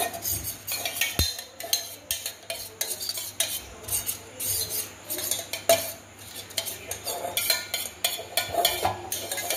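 A spoon stirs and spreads sour yogurt around the inside of a container for mango aam doi, giving steady scraping and soft clinking strokes that repeat close up with no talk.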